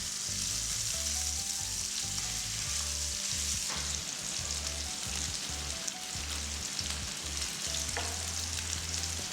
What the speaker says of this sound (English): Turn the chicken over and fry the other side for about 4 minutes.